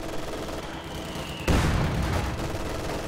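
Gunfire bursts in a real-time strategy video game, with scattered rattling shots in the background and then a sudden loud burst of heavy fire and explosions that keeps rumbling on.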